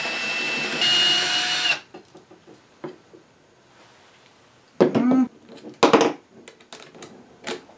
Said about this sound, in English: Now here I'm using a countersink bit, so that the beveled screw can fit in below the surface.